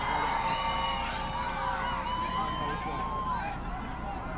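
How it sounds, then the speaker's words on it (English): A soccer crowd at a Cal United vs. Roots SC match keeps up loud continuous noise with shouts and whistle-like cries, while a commentator talks over it. "the crowd getting a little wild right there with making some noise"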